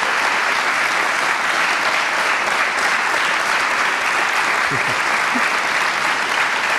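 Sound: audience applause for two violinists on stage

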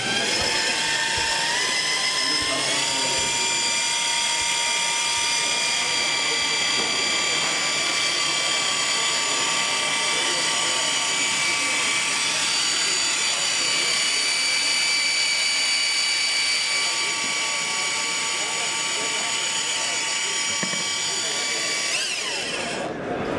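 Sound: triple gear reduction drill mixing drywall mud

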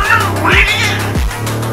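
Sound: angry cats yowling and fighting

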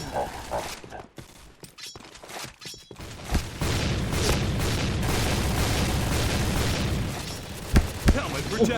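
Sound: gunfire and explosions in the Point Blank video game

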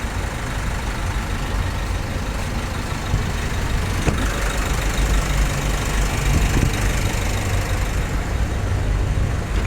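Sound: Isuzu D-Max 1.9 engine running during A/C refrigerant refill

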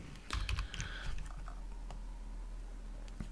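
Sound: typing a command on a computer keyboard

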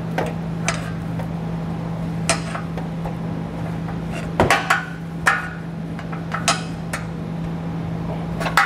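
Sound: prying rubber exhaust hanger off with a pry bar

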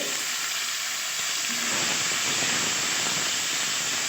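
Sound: meat and fish frying with spices for fried rice

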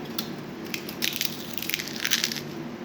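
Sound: crunching crispy fried chips

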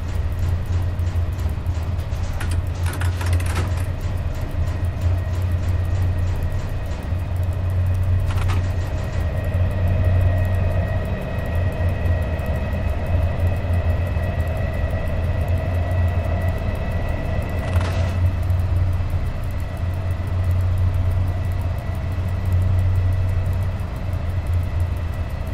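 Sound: EU07 electric locomotive running, from video game SimRail

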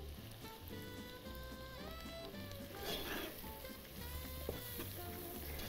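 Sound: onions frying in a pan for Kashmiri kofta

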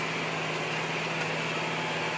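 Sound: tractor engine driving out of wet mud

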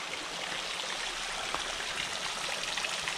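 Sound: spring water trickling down a rock wall

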